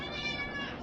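A house cat meows close by, one drawn-out, tonal cry that wavers in pitch, with no other sound over it.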